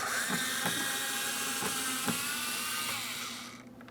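A power tool removes a Phillips head screw from the front door of a 2003-2008 Toyota Matrix 1.8L L4, whining steadily and close for several seconds with small repeated catches, then winding down at the end.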